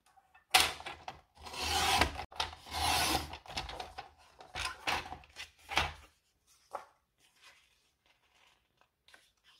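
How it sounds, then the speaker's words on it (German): Scissors or a blade trim the edge off a sheet of paper for a junk journal, a close series of crisp rasping cuts and rustles that stop abruptly, leaving faint handling taps. "Das heißt, da schneide ich mir den Rand auch ab."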